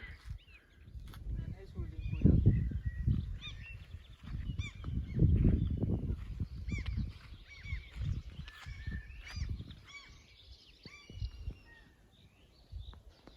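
Seagulls give gull-like honking calls that repeat over loud low rumbling noise and overlapping voices aboard a sailing boat, rising and falling in bursts across the scene.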